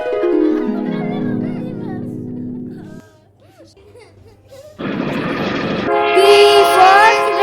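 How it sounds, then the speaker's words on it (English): A train in a children's phonics nursery rhyme sounds a drawn-out horn, followed by a quiet gap and then loud chugging rail noise with a bright whistle, all over music. "T for train."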